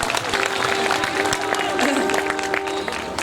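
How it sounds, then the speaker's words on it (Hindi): Audience at a Hindi kavi sammelan in Khariar Road, Odisha, breaks into continuous applause for a poem, dense clapping with a faint crowd murmur and a sustained tone underneath. "एक और कविता के लिए एक बार जोरदार तालियां।"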